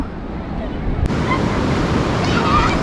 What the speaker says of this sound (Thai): แต่ว่าคลื่นแรง